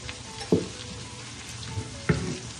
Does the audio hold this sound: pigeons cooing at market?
no